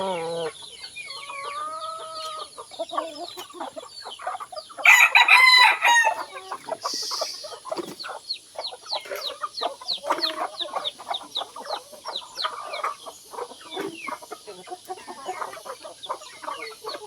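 A flock of native chickens clucks and chatters steadily at close range, with a rooster's loud crow bursting out partway through over the continuous busy farmyard clucking.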